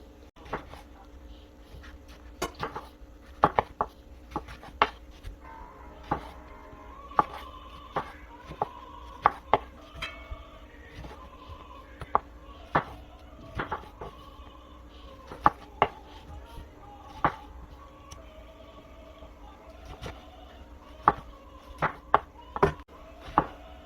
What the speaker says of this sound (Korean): 믹서기에 들어갈 수 있게 이렇게 잘라줍니다